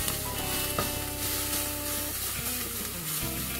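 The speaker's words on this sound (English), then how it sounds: "and cook that for a little bit. And just stir all this goodness." Jalapeno, garlic and ginger sizzle in a hot pan for tortilla soup while being stirred, a steady close crackle with a few soft scrapes and a brief dip near the end.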